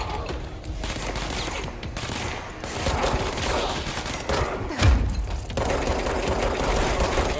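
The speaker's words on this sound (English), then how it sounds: "Oh, terrible shooting." Dense gunfire from the video game Control, with rapid overlapping shots and bursts rolling on continuously and loudly, plus a sharp heavier thump near the middle.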